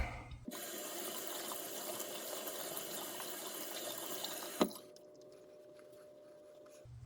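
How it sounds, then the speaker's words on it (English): Tap water runs steadily and loudly for several seconds, then cuts off, leaving a quieter trickle and faint room noise. "Rinse it real quick."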